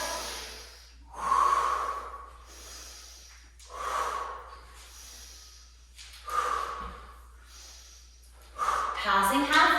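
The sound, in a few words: heavy breathing during cossack squat exercise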